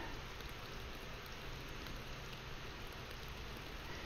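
Rain falls steadily in the Fishing Planet video game, an even, faint hiss of drops on surfaces with no voices.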